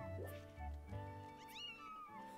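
A cat meows repeatedly in a video game, several close, rising-and-falling cries over a couple of seconds.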